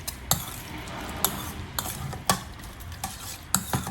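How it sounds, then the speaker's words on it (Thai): A spoon stirs a Thai dressing with a spoonful of granulated sugar for a spicy pork-belly salad, giving sharp scrapes and clinks at irregular intervals against a steady low background, close and alone. "คราวนี้ก็ผสมให้น้ำตาลทรายละลายนะฮะ"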